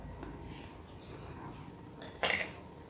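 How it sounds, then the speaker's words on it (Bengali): A large spoon adds three spoonfuls of sugar for taler puli pitha. After a stretch of quiet room tone, the spoon strikes the container once with a single short, bright clink near the end. "এখন এর মধ্যে দিয়ে দিব আমি এই চামচের, অনেক বড় এই চামচটা, 3 চামচ চিনি"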